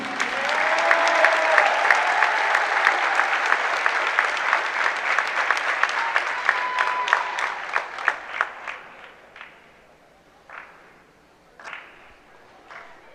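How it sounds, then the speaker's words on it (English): A high school boys' basketball crowd at Shelton applauds graduating seniors on senior night. Sustained, loud clapping with some cheering thins out into a few scattered, isolated claps toward the end. "One last round of applause for our graduating seniors."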